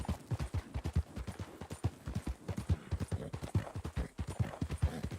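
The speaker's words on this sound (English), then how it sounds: "I heard another pair of horses." A pair of horses clip-clop at a walk in the WildRP video game, hooves striking in a steady, fairly close rhythm with no voices.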